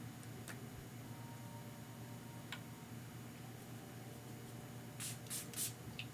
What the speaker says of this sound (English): give a little spritz there, even on my brush there